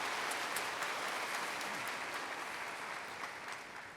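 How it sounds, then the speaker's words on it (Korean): Church congregation giving a steady round of applause, dense clapping filling the room for about four seconds and fading slightly at the end. "하나님 앞에 영광의 박수 올려드리겠습니다."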